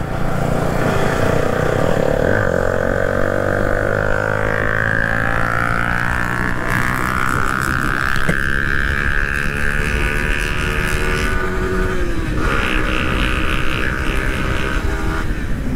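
Yamaha R15 and KTM RC200 motorcycles ride along a road, engines loud and close, revving and rising in pitch as they accelerate and pass, with steady roar throughout and no talk.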